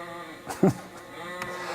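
A single short sheep bleat rises briefly out of a quiet, steady background hiss, heard once and moderately close.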